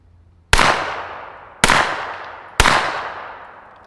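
Three suppressed pistol shots from a Glock 19X fired with Fiocchi 158-grain ammunition, each a sharp, loud crack with a long decaying tail, spaced roughly a second apart with quiet between them.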